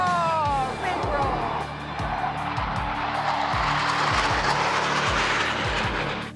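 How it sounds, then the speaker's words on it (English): Blue Angels jets roar through an air show maneuver over Pensacola Beach, a powerful broadband rush that swells and holds loud for several seconds with falling Doppler tones as the planes pass, while voices sound faintly beneath. "To see the two single planes going at each other."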